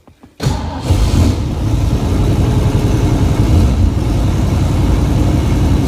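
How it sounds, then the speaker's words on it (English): A muscle car engine cold-starts after a short crank, catching loudly and settling into a steady, rough fast idle that runs on continuously and close by. "I'm going to start this video out by doing a cold engine start"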